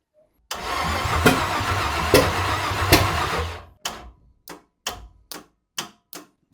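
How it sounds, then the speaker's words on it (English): A Ford Galaxie 500 with a faulty starter cranks in one long, loud, labored grind of about three seconds, then gives six short separate bursts of cranking, close up without talk. "There's something wrong with that starter."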